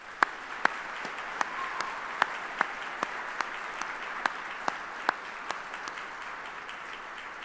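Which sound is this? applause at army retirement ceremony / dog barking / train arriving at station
applause at army retirement ceremony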